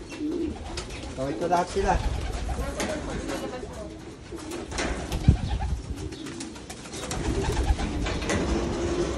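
Several pigeons kept in a backyard loft coo in soft repeated rumbles, close and continuous, while someone talks over them throughout.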